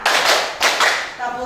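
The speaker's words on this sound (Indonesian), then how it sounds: "Kita tepuk berpola dulu ya. Tepuk berpola siap?" A fourth-grade elementary school class claps together in a patterned rhythm, giving loud, sharp bursts of group hand claps close by, with children's voices mixed in.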